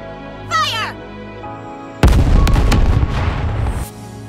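Heavy cannon blast from the Aegis cannon in the Goddess of Victory: Nikke game, a sudden loud boom followed by roaring rumble and debris lasting nearly two seconds, preceded by a short bird-like cawing sound.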